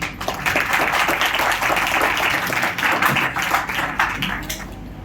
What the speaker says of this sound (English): let's give one final round of applause to Mr.